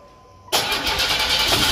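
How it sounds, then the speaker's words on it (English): The 231 V6 in a 1986 Oldsmobile Cutlass, with a rebuilt two-barrel Dualjet carburetor, cranks quietly for half a second and then fires abruptly into a loud, steady, rough running roar up close. "So I'm gonna plug the distributor back up and get the cranking."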